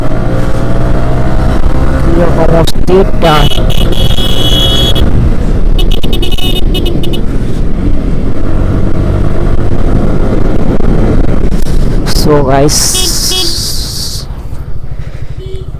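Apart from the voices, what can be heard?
motorbikes riding and passing on a road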